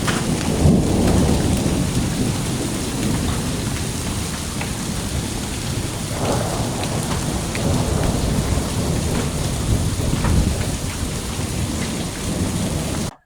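Heavy mid-February rain pours steadily at a historic house during a thunderstorm with tornado watches, a dense loud hiss of rain on surfaces with low thunder rumbling underneath and no speech.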